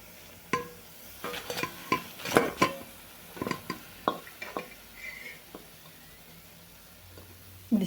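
Fasting-style medu vadas, fried until crisp and reddish, being lifted from a pan of oil: a series of light metallic clinks and taps with faint sizzle underneath, fairly quiet and close, no speech.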